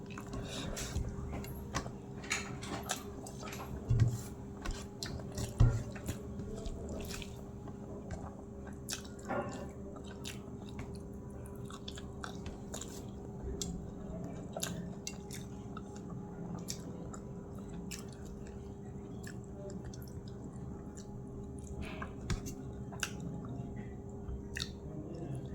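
Rice eaten by hand with hot pabda fish curry, alongside fried pabda and boiled egg: quiet, close wet squishes and chewing with scattered small clicks and smacks, soft throughout.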